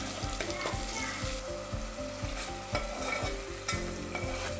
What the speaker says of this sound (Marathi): आता टोमॅटो आणि हिरवी मिरची दोन्ही एकत्र तेलात व्यवस्थित भाजून घ्यायचं आहे.